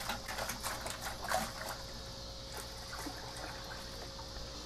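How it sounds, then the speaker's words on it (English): Water is added to a goldfish aquarium, with faint splashing and trickling over a steady circulation hum, quiet and close with no voices. "And then maybe get a little more water in here."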